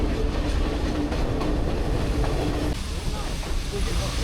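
A Sri Lankan passenger train runs steadily, its wheels clattering over the rail joints in a continuous loud rumble with a rhythmic clickety-clack, heard from inside a carriage.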